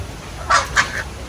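Hens on a small egg-laying farm cluck a few times, two short close calls and a softer one trailing after, over a low background hum.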